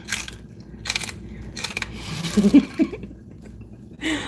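Crispy pork crackling being chewed close up, a few crunchy bites clustered in the middle of an otherwise quiet stretch, with soft rustling before and after.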